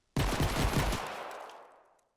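A modded dual pistol in Fortnite lets off one rapid, dense burst of shots that stops abruptly, leaving a reverberating tail that fades over about a second.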